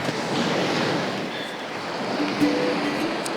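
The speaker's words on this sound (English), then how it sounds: "this water that's coming in here at high tide, it's making some lovely shapes, but it's moving so quick" Incoming high-tide water rushes over a Northumberland shore, a constant close hiss of surf and moving water with faint wind, steady throughout.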